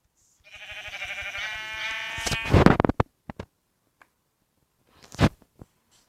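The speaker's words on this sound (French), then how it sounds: "Mais un mouton." Sheep in a video game, likely a Minecraft-style server world, give a long wavering bleat lasting a couple of seconds, followed by scattered clicks and a second short bleat-like burst, with no talk over it.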